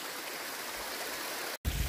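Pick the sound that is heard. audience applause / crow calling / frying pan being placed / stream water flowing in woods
stream water flowing in woods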